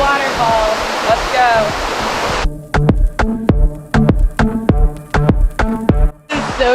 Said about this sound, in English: Back through the waterfall.